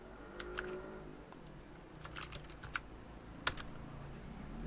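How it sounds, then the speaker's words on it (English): Keys clatter on a computer keyboard in an uneven run of light taps, with one sharper keystroke near the end, over a low steady room hum. "You can type something in there of your own,"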